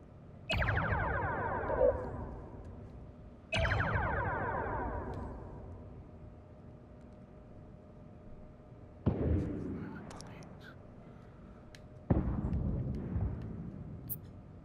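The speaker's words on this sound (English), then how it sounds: "Target the nearby ship and fire torpedoes at it." Torpedoes launched at a nearby ship in Star Trek Bridge Crew: four separate heavy booming launches with sweeping, descending whooshes that decay slowly, spaced several seconds apart over a low electronic hum.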